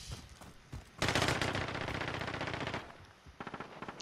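A P90 submachine gun rattles off a fast burst of rapid shots in Modern Warfare, loud and dense for about two seconds, with a few short shots before and after.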